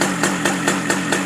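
A Polaris 90cc ATV engine running loud and close as it pulls away, a buzzing small-engine drone with regular throbbing pulses and no talking.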